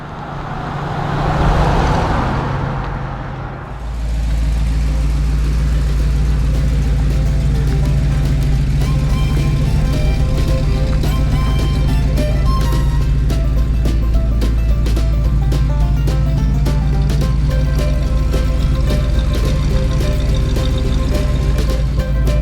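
A 1971 Dodge D200 Custom Camper Special pickup truck driving: a steady low engine drone and road rumble continue throughout, with a brief louder swell at the start before settling into a constant cruising hum.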